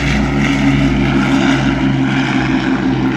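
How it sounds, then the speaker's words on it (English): An Avro Lancaster propeller bomber departs at the Royal International Air Tattoo air show, its engines giving a loud, steady droning roar that holds evenly throughout with no voices. "the wedge tail departs followed by the Lancaster"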